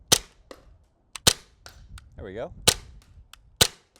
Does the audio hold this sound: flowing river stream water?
no